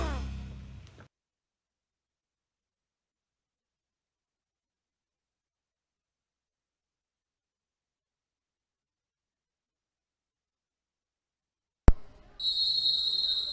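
At a high school basketball game between SA Clark and Edinburg, a referee's whistle sounds as a short, shrill, sustained blast near the end, following a sharp click and a long stretch of near silence.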